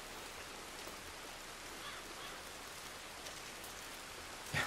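Steady, quiet rain falling outdoors in Red Dead Redemption 2, a soft even hiss with no voices, continuous throughout.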